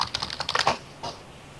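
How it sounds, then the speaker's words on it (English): Quick clattering keystrokes on a computer keyboard, a short burst of close taps followed by a pause and one final press. "I hear typing"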